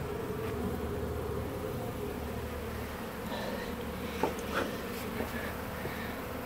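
Honeybees hover at a hive entrance during a removal, making a dense, steady buzzing drone throughout with a few brief closer passes near the end.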